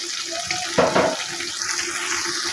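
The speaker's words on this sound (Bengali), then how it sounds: "বাটিটা ধুয়ে একটু জল দিয়ে দিলাম।" A bowl rinsed and water added at a kitchen tap: steady close hiss of running water with a brief louder splash partway through, continuing evenly to the end.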